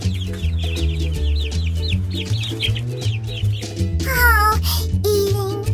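Rapid high-pitched chirps and clucking from baby birds over steady background music, growing louder and busier toward the end.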